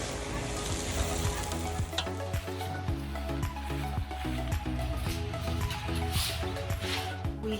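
Fried rice sizzles and crackles on an outdoor grill at a swim club, a steady close frying hiss with scattered spatula scrapes and taps throughout.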